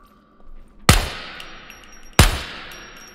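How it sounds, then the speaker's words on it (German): Two loud, close gunshots in the video game SCUM, each a sharp blast with a long ringing decay, spaced about a second and a half apart. "Wenn ich jetzt schieße, guckt der Bot her."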